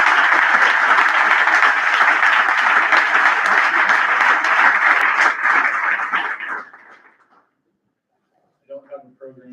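Dense, loud applause from a Founders Day banquet crowd honoring scholarship recipients and donors, holding steady then fading out to silence, followed by a brief voice.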